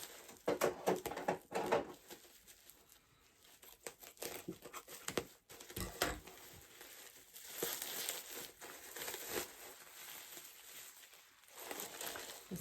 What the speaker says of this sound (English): And Sara, this is beautiful wrapping.